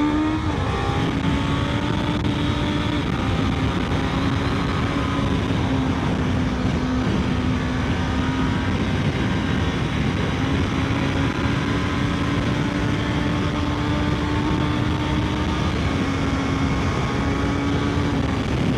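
Suzuki GSX-S 1000 GX motorcycle engine running steadily at high revs, a loud continuous drone with a slowly wavering pitch that holds for the whole stretch.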